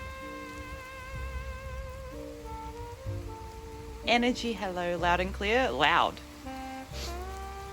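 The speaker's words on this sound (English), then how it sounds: "Very ambient, rainy noir" Steady rain ambience in Fallout 76's rainy noir Goodneighbor setting, a soft continuous patter running under tonal music and voices talking over it.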